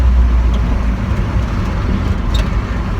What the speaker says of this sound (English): I will admit that carburetor is night and day an improvement over the way it used to run.